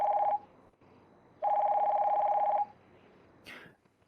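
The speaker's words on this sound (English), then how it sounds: "That's a phone" A phone rings with two bursts of electronic beeping tones, a short one and then a longer one, separated by a pause and followed by a faint click.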